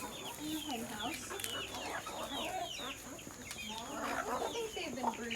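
Hens clucking and murmuring close by in a hen house, with scattered bird calls and a brief voice in the background.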